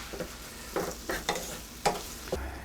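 Ground beef seasoned with black pepper and salt frying in a pan for burritos, with a soft steady sizzle broken by six or so spatula stirs and scrapes, fairly quiet and close.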